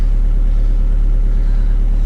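Steady low engine hum inside a pickup truck cab, a constant idling drone with no voices, close and even throughout.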